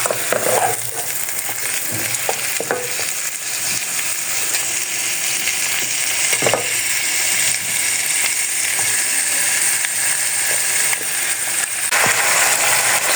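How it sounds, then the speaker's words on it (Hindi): Chicken sizzles and fries steadily in a pan for a spicy desi chicken soup, giving a loud, continuous crackle with occasional stirring clicks and scrapes. "चिकन हमारा ये देखिए अच्छी तरह फ्राई हो गया।"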